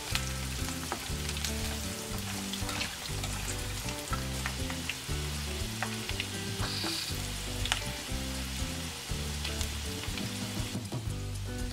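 Cauliflower pieces for vegetarian sisig frying in a pan of oil until golden brown, a steady close sizzle with frequent crackles and pops and no voices.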